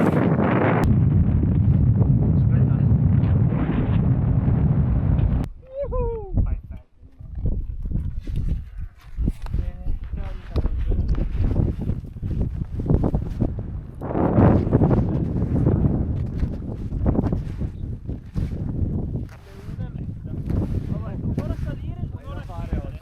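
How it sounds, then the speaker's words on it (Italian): Strong, freezing wind batters the microphone on a winter summit of Mangart in the Julian Alps. It roars in loud, uneven gusts throughout, and a person talks and breathes between the blasts. "qua su tira un vento assurdo, freddissimo"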